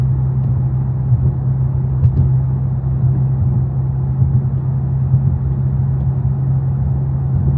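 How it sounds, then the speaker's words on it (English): A car with an S58 engine fitted with a Yonristic Vanta Gold exhaust, heard from inside the cabin with the windows closed while cruising: a steady, loud low drone and rumble that continues without a break and with no talking. "This is what the car sounds like with the windows closed."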